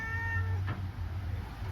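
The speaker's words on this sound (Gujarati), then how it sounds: "બિચારો મીંદડો આવ્યો છે" A cat meows once at night, a single drawn-out harmonic cry that fades, over a steady low hum and constant background noise.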